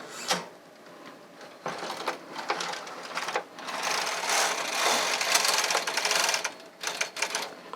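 A knitting machine carriage set to select needles from a punch card sweeps across one row of a Fair-Isle pattern, giving a rapid mechanical clatter and rattle with sharp clicks at the start and end of the pass.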